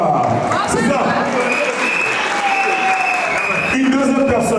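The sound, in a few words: wedding guests applauding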